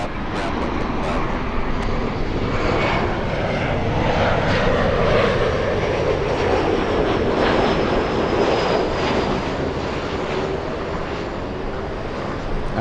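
Jet engines of a large airliner roar steadily at Los Angeles International Airport, a loud, sustained wash of sound that swells slightly and then holds.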